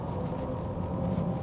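Synthetic engine sound played through the speakers of an electric car in its powerful drive mode, a steady low droning hum heard alone and unbroken for a moment.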